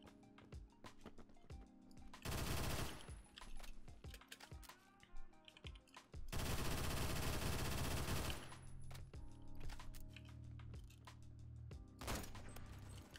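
X95R MTAR automatic fire in the shooter game Phantom Forces comes in loud rapid bursts, one long sustained spray among shorter ones, mixed with busy keyboard and mouse clatter between shots.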